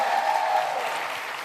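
A short burst of dense audience applause at a community hearing, loud and steady through the whole moment with no voice over it.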